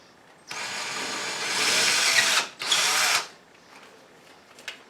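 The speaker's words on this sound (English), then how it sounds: "so now we know we're going to drill 4 holes this size" A power drill bores holes into a wall for mounting a coat rack with molly anchors: two close, loud bursts of whining drilling, the first about two seconds long and the second shorter, with no talk.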